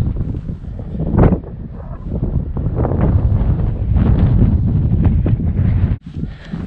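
Strong wind buffeting the microphone on the Potrójna summit in the Beskid mountains, a loud continuous roaring rush with gusts rising and falling and a sharp dip near the end, with no talk.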